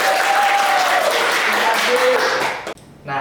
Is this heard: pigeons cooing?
no